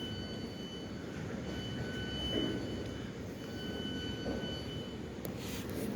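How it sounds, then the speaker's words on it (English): A Class 455 train rumbles steadily past at a distance on a main line, a continuous low roar with faint tonal whine from the wheels and rails. "What I'll do, I'll just record this train."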